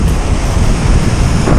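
Ocean surf breaking along a rocky shore where a striped bass angler stands, a dense continuous wash of white water mixed with heavy wind buffeting against the microphone, loud and close, with no voices.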